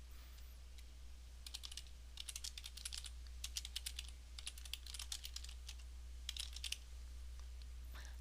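Typing on a computer keyboard in bursts of quick, light key clicks separated by short pauses, fairly close and quiet over a steady low hum.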